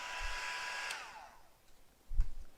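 A handheld heat tool blows over a pumpkin craft with a whooshing hum for about a second, then cuts out, leaving quiet room noise and a couple of soft bumps.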